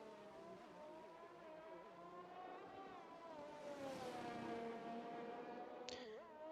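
Formula 1 cars in the F1 2021 video game race past on the Australia track, a loud, continuous engine whine that swells and shifts pitch as cars pass, with a sharp click near the end.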